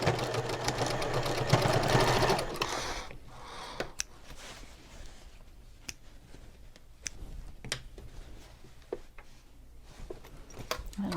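A sewing machine runs for a couple of seconds on the side of a Lyla May handbag, then stops, leaving quiet handling clicks and taps.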